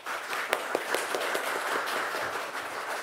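A church congregation claps together to welcome a missionary, a steady wash of many hands with a few sharper individual claps standing out over about three seconds.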